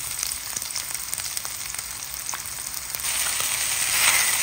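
Garlic, onion and ginger sautéing in oil for beef adobo: a dense, steady sizzle with faint scraping stirs, close and continuous, growing slightly louder toward the end.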